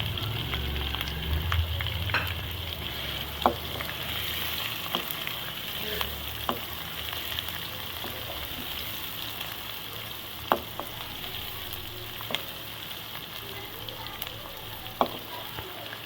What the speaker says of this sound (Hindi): प्याज़ों को हम फ्राई करेंगे जब तक इसका लाइट पिंक कलर नहीं आ जाता